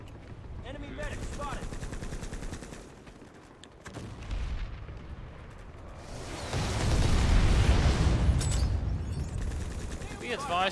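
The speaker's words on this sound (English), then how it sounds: "Nice bombardment running from above." Heavy artillery bombardment rains down from above in a video game, a continuous rumbling barrage of booms and crackling blasts that swells louder toward the end, with voices talking over it.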